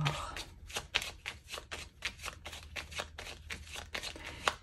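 A deck of 32 tarot cards being shuffled by hand, close and clear, in repeated quick riffling bursts with a steady rhythm and no talking.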